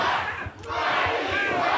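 A crowd at a professional wrestling match reacting loudly to a wrestler's taunt, a dense roar of many voices shouting together for the whole moment.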